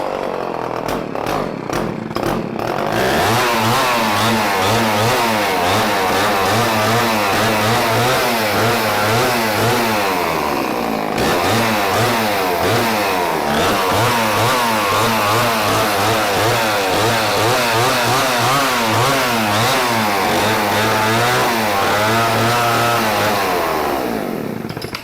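A vintage Homelite Super XL chainsaw starts after a few quick pulls, then its two-stroke engine runs loud and close, holding a buzzing idle with several rising and falling revs.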